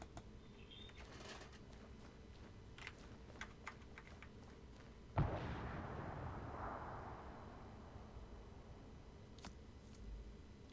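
A Czech mortar fires in the ARMA 3 WW2 mod CSA 38. Quiet clicking is followed by a single sharp, distant boom with a long, fading rumble. The sound is not loud.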